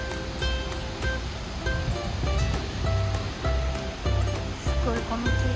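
Waterfall on Hawaii Island near Hilo, brown with muddy water, rushing and splashing as a constant broadband roar, with faint tonal sounds and voices layered over it.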